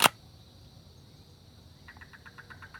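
A rangefinder camera shutter runs at a slow speed: a sharp click, then about a second later a faint rapid buzzing of evenly spaced ticks that lasts to the end, close and quiet.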